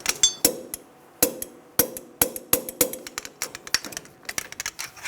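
Torque wrench on the upper ball joint nut of a 2000-2006 Toyota Tundra: a rapid series of sharp metallic clicks and ticks, close and fairly loud, irregularly spaced over a few seconds.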